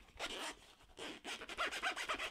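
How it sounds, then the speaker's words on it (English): Zipper on a Hobie Eyewear sunglasses case being pulled open, close and crisp: a couple of short rasping strokes followed by a quick run of tight zips, with no voices. "Really durable zippers."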